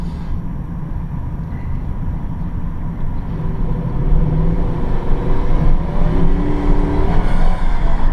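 A 2000 Toyota Celsior (Lexus LS430) engine pulls under load on a test drive. A loud, low interior drone swells midway as the car accelerates, then keeps climbing steadily alongside road noise.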